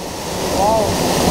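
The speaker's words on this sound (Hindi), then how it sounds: "ओ भाई ये देखो कितनी तेज आ रहा है पानी" A fast-flowing monsoon stream at Malshej Ghat rushes loudly and continuously close by, a broad roar of water with a brief voice over it.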